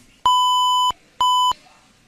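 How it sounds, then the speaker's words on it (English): Two steady electronic censor bleep tones over broadcast speech, the first long and the second shorter, sounding loud and clear against near silence. "So that beeping was the N-word."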